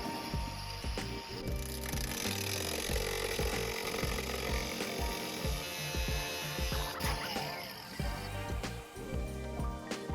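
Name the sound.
angle grinder cutting on 1982 Toyota pickup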